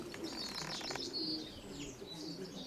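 Pigeons cooing softly at a keeper's loft, with faint chirps and a hint of wing flutter over a low background hum; no talk, the birds sounding fairly close but quiet.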